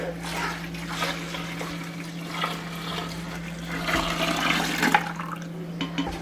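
Hot homemade laundry detergent solution is poured into a gallon of cold water, giving a steady continuous splashing, gurgling pour that stays close and fairly loud.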